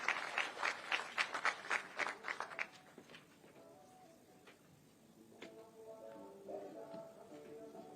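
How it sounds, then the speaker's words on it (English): An audience at an official FLAMA 2024 tourism event in Kenya gives a dense burst of applause as a guest comes to the stage, then the clapping quickly fades into a quieter room with soft tones behind it. "A round of applause as he comes to the stage kindly."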